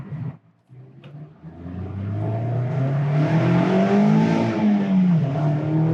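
A 2022 Mazda MX-5 engine revs up and holds a rising, throaty drone, loud and close, with no talking.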